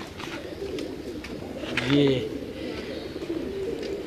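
Kamgar pigeons from a single bloodline give a soft, close coo that swells briefly in the middle, while someone talks nearby.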